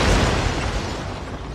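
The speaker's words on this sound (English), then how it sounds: "When they open it, the entire house explodes." A house blown apart by a bomb hidden in a box, a loud, broad rumbling blast that rolls on and slowly fades.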